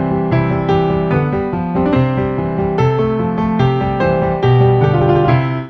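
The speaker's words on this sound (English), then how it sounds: "The second sound is stage piano." Stage piano voice on a Donner DDP-200 digital piano, playing a sustained, steady passage of full chords and melody, bright and fairly poppy in tone, close and loud with no talking.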